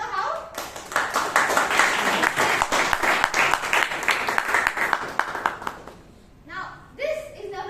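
Applause from an audience at a Toastmasters club meeting in a Bangalore hall, loud and steady for about five seconds, then fading out before a voice speaks near the end.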